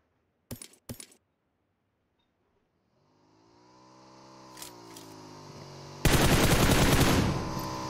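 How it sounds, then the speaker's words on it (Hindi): Gunfire in an esports shooter match starts with two sharp close shots, followed by a rising engine-like drone, a couple of pops, then a dense loud burst of rapid fire near the end. "चलिए शॉट्स दिया जा रहा था"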